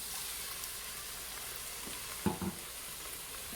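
Sherry vinegar sizzles as it deglazes a hot pan for beef stew, a steady close hiss with a couple of brief scraping knocks from stirring near the middle.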